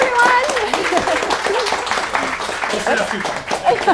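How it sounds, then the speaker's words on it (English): An audience at a Startup Grind Tampa Bay event gives a round of applause for Jan Mercer Dahms, steady close clapping throughout with voices mixed in. "give Jan a great round of applause"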